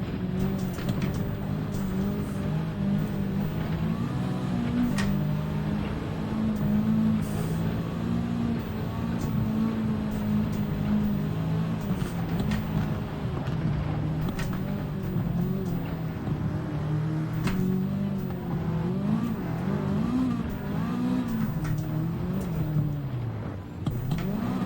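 A rally car engine in Dirt Rally 2.0 drones loud and continuous, revving up and down through gear changes as the car is driven, with no talk.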